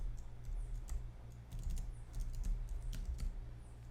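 Soft keystrokes patter in an irregular rhythm on a computer keyboard, quiet and close, with clusters of faster clicks while code is being entered.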